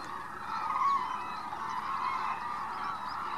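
White-naped cranes calling in flight over the Arasaki crane wintering grounds in Kyushu, Japan: a steady mid-pitched chorus of honking calls, fairly distant and continuous, with no talking.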